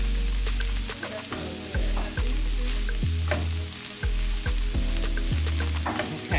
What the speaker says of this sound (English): I'm just gonna stir this around while we're waiting on our tomatoes